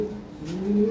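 Lahori pigeons coo close by, a low steady warbling call that rises slightly toward the end, with no voices over it.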